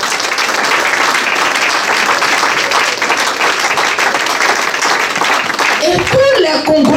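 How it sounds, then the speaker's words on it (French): A church congregation gives loud, dense, sustained applause that fills the space, and a voice rises over the clapping near the end. "Je veux qu'on acclame le Seigneur pour ces hommes."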